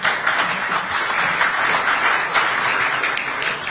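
A lecture audience claps in a dense, sustained round of applause, steady and moderately loud throughout.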